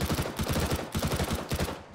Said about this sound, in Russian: А я уже стреляю по нему.